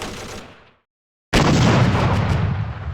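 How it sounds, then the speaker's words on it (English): Dense gunfire and explosions from the strategy game Close Combat Modern Tactics, a loud continuous barrage of booms and shots that fades out, drops to silence, then bursts back in at full intensity. "Lots of gunfire going on over here."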